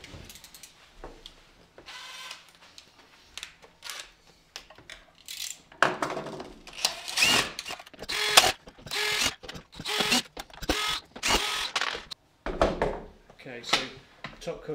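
Ten stainless steel machine thread screws being removed from the rear cover of a robot lawn mower, heard as irregular ratcheting clicks and small metallic taps, quiet at first and then busier, with a voice speaking over parts of it.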